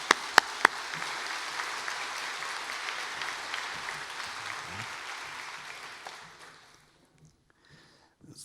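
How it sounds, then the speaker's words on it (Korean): Church congregation applauding during a Sunday service, steady broad clapping from a full room for about six seconds before tapering off into near silence. "여러분 큰 박수로 한번 위로와 격려해 주시면 감사하겠습니다"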